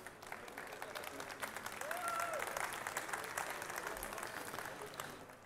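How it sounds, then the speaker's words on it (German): A seated audience at a German case-modding championship event applauds the case modders, sustained clapping heard from some distance and fairly faint, with a short tone sounding partway through. "Also dafür bitte einmal einen Applaus für die Casemodder,"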